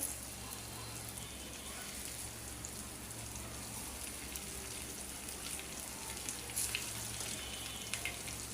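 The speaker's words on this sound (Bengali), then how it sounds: "এই পাশে দিয়ে আমি কয়েকটা গোস্ত ভাজি করবো।" Meat for kebabs frying in a pan gives a steady, dense sizzle and crackle that holds at an even level from start to finish, with no voices over it.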